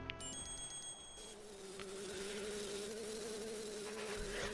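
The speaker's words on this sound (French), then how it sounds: "trop belle l'abeille!" A bee in the video game Zelda: Majora's Mask gives a steady, faint buzzing drone that runs continuously under quiet game sounds, with no talking.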